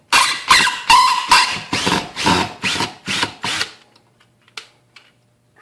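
Ryobi 18V One Plus cordless drill driver sinking a drywall screw, a run of about nine short, loud, pulsing bursts close up, then a few faint clicks in near silence.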